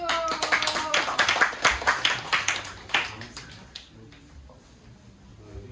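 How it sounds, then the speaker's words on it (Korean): An audience at a high school project presentation claps in a brief round of applause, loud sharp claps fading out after a few seconds. "박수."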